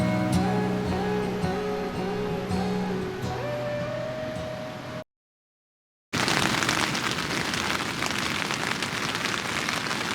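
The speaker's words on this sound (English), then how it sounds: "it's raining super bad right now" Heavy rain pours down during a backpacking trip, a dense, loud hiss that starts after a brief silent gap. Steady tonal sounds come before the silence.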